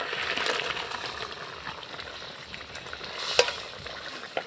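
Prawns tipped into a spice paste frying in a pan for a village-style prawn bhuna, giving a steady close sizzle with stirring scrapes and a brief metallic clink.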